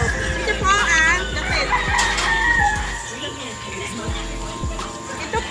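A gamecock rooster crows nearby amid clucking fighting chickens and other birds in the Philippines, with a person speaking over the farmyard noise.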